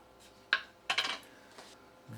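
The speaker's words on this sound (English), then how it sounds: "Oh, seal is tough to break." Store-bought ghee jar being opened, a few sharp metallic clicks and a short crackling rattle of the lid seal giving way, close and fairly quiet with no talking.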